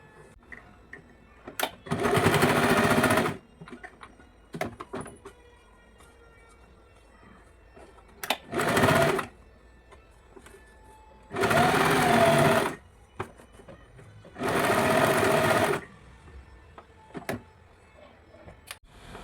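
Sewing machine stitching a plain blouse, four loud buzzing runs of one to two seconds each separated by pauses with small handling clicks and fabric rustles, close and alone.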